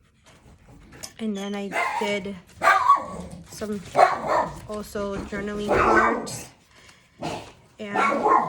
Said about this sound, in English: My granddaughter's at the door, so he's barking up a storm.